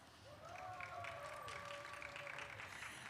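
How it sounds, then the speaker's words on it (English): An audience at a New Orleans civic leadership event claps in a dense, steady roar of applause. A faint voice-like tone rises over it partway through. "Please give them a round of applause."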